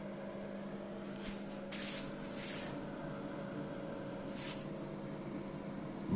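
A noisy heat recovery ventilator fan runs with a steady droning hum and faint whooshing hiss, heard alone at low level with a few brief airy bursts.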